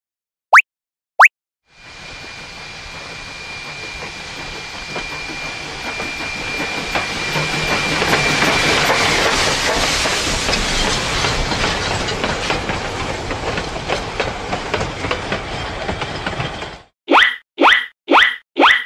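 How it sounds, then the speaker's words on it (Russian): A black steam locomotive in a children's cartoon rolls past with a loud, rising hiss and rhythmic clattering. Two short tones come before it and a run of short whistle-like bursts follows. "Это черный паровоз."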